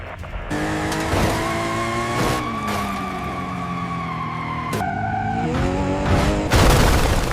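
A car braking hard with tires skidding, a loud sustained squeal of rubber with shifting tonal whine running almost continuously above engine noise, briefly cut then resuming, no talk.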